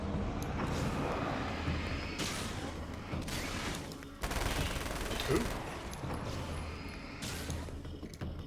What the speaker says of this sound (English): the submachine gun sounds right